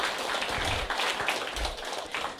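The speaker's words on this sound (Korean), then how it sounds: "여러분 모두 큰 박수 부탁드리겠습니다." An indoor audience gives a burst of applause for newly promoted sales members, dense clapping that swells and continues across the short span.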